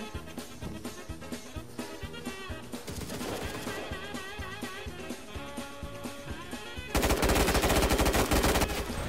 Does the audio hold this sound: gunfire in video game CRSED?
yes